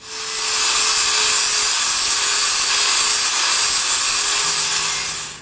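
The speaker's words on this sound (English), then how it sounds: "I'm going to go ahead and grab my grinder, and I'm going to just cut these back a little bit" A handheld grinder cuts back the edges of rear brake pads from a 2017 Suzuki GSX-R1000, producing a loud, continuous high grinding whine that holds steady from start to finish with no talk.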